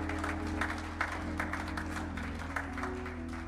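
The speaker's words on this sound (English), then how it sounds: "Let's give one Tony one more round of applause." A church congregation at an anniversary worship service claps steadily in a moderate, even patter over a sustained low organ or keyboard chord, with no talk on top.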